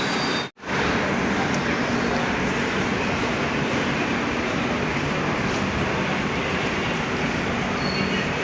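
A train at Barpeta Road railway station gives a loud, continuous rumbling roar of rolling wagons that cuts out for an instant near the start and then carries on steadily and close by, with no speech.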